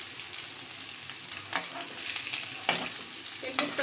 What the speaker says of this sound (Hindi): तो अभी मैं इसमें ये डाल रही हूँ, इनको हल्का सा फ्राई कर लूँगी